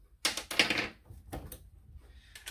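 A torque wrench tightens the engine girdle on a Yamaha 62T big bore 701 build, giving a few sharp mechanical clicks and clacks up close, followed by quieter scraping handling noise.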